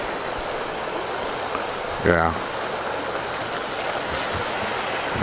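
Water gushes steadily from a broken water main, a constant broadband rushing hiss heard from a distance, briefly interrupted by a short spoken word.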